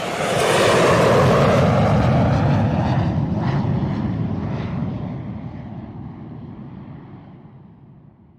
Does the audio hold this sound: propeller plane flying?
yes